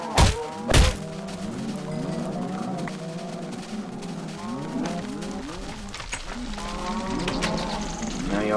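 Cows in the Minecraft video game moo repeatedly in overlapping drawn-out calls, with a couple of sharp thunks at the start and a steady game-sound background.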